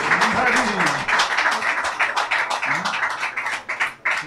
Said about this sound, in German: Applaus, Applaus, Applaus!